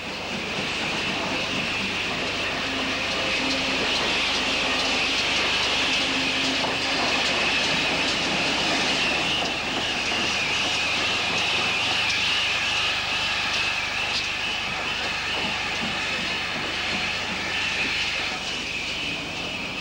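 Two steam locomotives with different tenders back slowly into an upward loop, giving a steady, loud mechanical rumble with hissing that continues throughout, with no voices.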